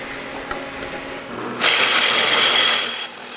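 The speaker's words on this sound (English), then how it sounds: "I've set up a dado blade in my table saw." Table saw fitted with a dado blade set a quarter inch deep, cutting a groove in a wooden side piece for a storage box; a steady, loud, broadband rushing cut lasting about a second and a half over a quieter running hum.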